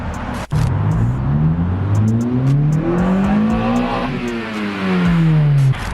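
A 9th-generation Honda Civic Si engine revs hard and climbs sharply in pitch into VTEC, then falls briefly before rising again, loud and close with a few sharp clicks.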